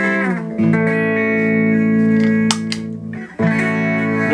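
An electric guitar played through an Analog Alien Rumble Seat reverb pedal rings out in sustained chords with bright harmonics, loud and close, a brief pick scrape midway, then a fresh strum as the effect is switched on and off.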